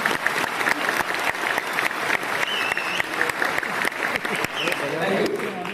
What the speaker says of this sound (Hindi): ताली बजाना है तो प्रॉपर्ली सब लोग ताली बजाओ